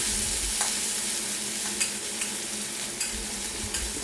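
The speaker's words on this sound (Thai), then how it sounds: "พอเริ่มร้อนนำเครื่องแกงที่เราโขลกเมื่อสักครู่ลงไปผัดได้เลยครับ" Freshly pounded Thai curry paste stir-fries in hot oil for a spicy beef dish, making a soft, even sizzle with a few light scrapes of the spatula, fairly quiet and with no talk.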